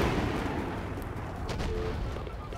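A bomb explosion in Far Cry 6, a loud, heavy rumbling blast that fills the moment and slowly trails off, with a faint sharp pop near the end.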